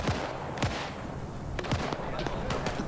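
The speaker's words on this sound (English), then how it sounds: "Firing at the Russians." Gunfire in a WW2 German-versus-Soviet video game battle, scattered sharp shots and short bursts crackling at moderate distance over a busy background, with faint voices mixed in.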